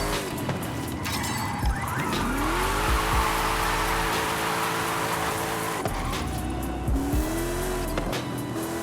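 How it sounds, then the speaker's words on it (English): A car in the racing game Forza Horizon 5 revs hard while drifting, its engine droning steadily with bursts of tire squeal and gear shifts over several seconds, with no voices over it. "let's try to drift this way"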